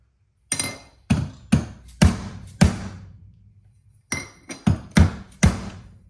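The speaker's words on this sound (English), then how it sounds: "I'm gonna go over here to that big heavy pad on that vise. I'm gonna tap this." A metal header tube for a boosted 427 LS engine is tapped against a heavy vise pad, giving eight sharp metallic hammer-like strikes in two groups with a brief pause between, each ringing and decaying quickly, close and loud with no talk.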